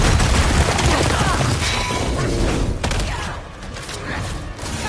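Incoming fire in the God of War Ragnarok video game: a dense, continuous barrage of booming impacts and blasts, loud and layered, fading slightly toward the end.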